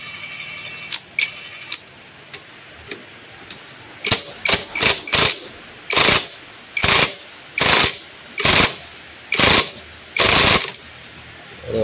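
Bursts from a powered box spanner tightening a fitting: a series of sharp, loud whirring pulses, first sparse and short, then about nine longer rattling bursts at a steady rhythm, close up with no talk.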